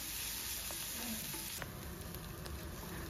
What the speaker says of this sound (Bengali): এখন আদা রসুনটাকে ভালো করে আমরা একটু কষিয়ে নেবো